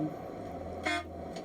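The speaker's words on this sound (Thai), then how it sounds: "มีเสียงรถอยู่นะ" Brief car horn honk on a road in Egypt, a short toot rising over steady traffic rumble, moderately distant, followed by a fainter second beep.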